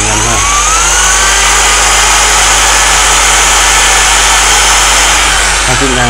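A Bosch three-function 220V hammer drill, a Japanese domestic model without reverse, runs with a loud, steady motor drone that holds at one pitch from start to finish.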